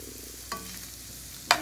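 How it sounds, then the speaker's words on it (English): Steak pieces frying in a pan for a Philly cheesesteak Alfredo, a faint steady sizzle broken by two sharp utensil clinks about a second apart. "make sure you get your steak basically cooked first"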